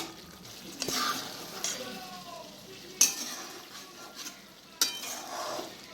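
Raw fish chochchori simmering in a pan over low heat, a low sizzle under occasional stirring and a few sharp clinks of a utensil against metal.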